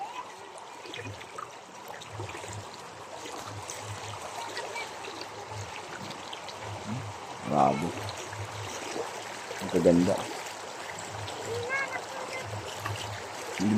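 A large river in Malaya, Isabela flows with a steady outdoor rush and trickle, while people nearby make short exclamations over it.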